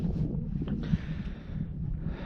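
Wind gusts outdoors on a fishing trip as a large rain cloud moves in, buffeting the microphone with a steady low rumble and rustle that rises and falls slightly, with no voices heard.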